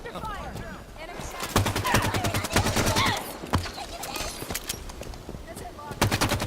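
Rapid gunfire bursts from a video game played on a 25-hour charity livestream, sharp repeated volleys of automatic fire crackling loudly with brief pauses, voices calling out over the shooting.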